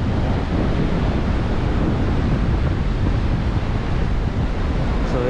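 Ocean waves at Mandrem Beach in Goa, a constant broad roar of surf mixed with heavy wind buffeting, loud and unbroken with no distinct individual breakers.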